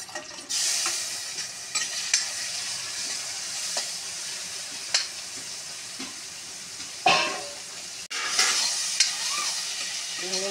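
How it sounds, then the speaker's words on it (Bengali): Prawns frying in oil in a pan over a clay oven, with a steady dense sizzle broken by several sharp scrapes and clatters of stirring, close and fairly loud, with no talk. "এবার আমি চিংড়ি মাছটা ভাজবো।"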